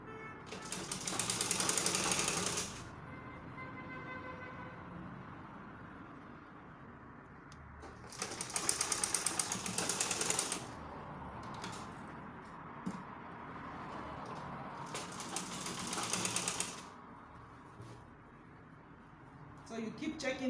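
A sewing machine stitches a peplum seam in two or three loud buzzing runs of several seconds each, separated by quieter pauses with faint background noise.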